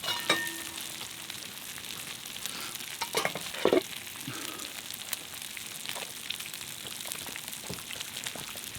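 Water poured into a pot heating over an outdoor campfire, a steady hiss and sizzle with soft splashes, close and fairly quiet, no talk.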